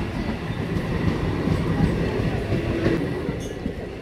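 A train rolls past a station during the Chakdaha Rath Yatra festival, a steady loud rumble of wagons and wheels filling the whole stretch, with faint crowd voices behind it.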